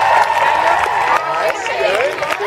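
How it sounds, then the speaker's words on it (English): Live audience applause and cheering for a group of female performers at a show, a dense continuous wash of clapping and crowd noise throughout, fairly loud and steady. "let's have a round of applause"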